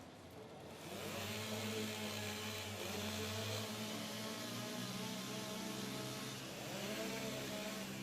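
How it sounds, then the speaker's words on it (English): STIHL chainsaws revving together as competitors warm up their saws at a timbersports rookie world championship, a dense, loud continuous engine drone that swells in after the first second and holds steady with shifting pitches. "the back gentlemen, warm up your saws"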